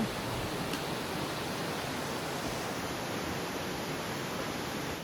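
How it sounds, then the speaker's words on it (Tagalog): The waterfall in Waimea Valley on Oahu pours with a constant broadband rush, a steady hiss of falling water that stays even and unbroken from start to finish. "Ayan na ang waterfall. Ang ganda."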